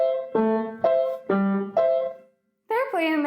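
A short piano phrase played heavy staccato: separate, heavily struck notes, each cut off quickly, then a pause before two more notes.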